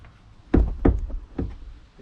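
Three dull knocks on a carpet-lined interior panel of a Vauxhall Vivaro campervan, evenly spaced and fairly close, each a soft muffled thud with a short ring.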